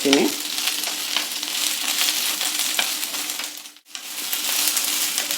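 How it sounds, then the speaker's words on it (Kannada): Snake gourd frying in an oil tempering, a loud, dense, continuous sizzle close by with faint stirring scrapes, dipping briefly before resuming at full strength. "ಸಾಕಷ್ಟು ಒಗ್ಗರಣೆನಲ್ಲಿ ಫ್ರೈ ಮಾಡಿದ್ದೀನಿ ಪಡೋಲ್ಕಾಯಿನ"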